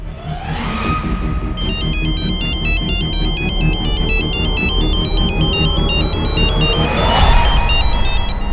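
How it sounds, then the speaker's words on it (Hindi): A mobile phone ringtone plays loudly and continuously, a bright repeating electronic melody looping over a thumping backing beat, close by with no talk. "प्लीज मेरे फोन पे रिंग करोगी क्या?"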